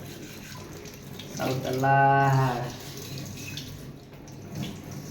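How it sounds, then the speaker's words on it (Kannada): Household items being washed under a running tap, a brief splashing gush of water in the middle with someone speaking Kannada around it. "ಇವೆಲ್ಲ ತೊಳಿದತ್ತೀನಿ ಸ್ವಚ್ಛಗೆ"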